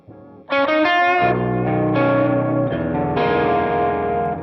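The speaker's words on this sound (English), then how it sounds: "Just another delay." Sustained distorted guitar chords ring out with repeating echoes trailing behind each note, a thick, washy tail filling the gaps.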